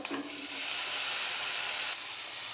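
Okra fry with green chillies and tomato sizzles in a pan, a bright steady hiss close by that holds for about two seconds and then drops to a softer level.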